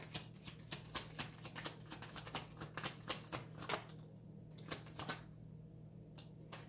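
Tarot cards being shuffled, a rapid run of crisp card riffles and soft slaps up close at low volume, over a steady background hum, with a quieter pause near the end.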